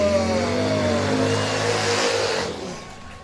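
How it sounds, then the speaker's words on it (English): Racing motorcycle engines at a Harley-Davidson race at Bradford Beach rip past a trackside booth, loud and near, with the roaring, revving pitch sliding downward as they pass before fading away. "I hope you guys can hear that, those engines ripping by our booth"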